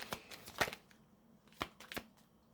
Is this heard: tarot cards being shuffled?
yes